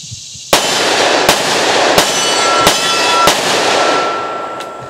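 Five sharp, loud gunshots from a Smith & Wesson M&P Shield .45 ACP pistol firing Double Tap hollow-point ammunition, spaced at an uneven pace of roughly one shot every second or so, each followed by a lingering outdoor echo.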